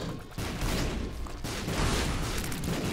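Explosions in The Binding of Isaac: Repentance, a short run of dull booming bursts over dense game noise, fairly quiet and layered.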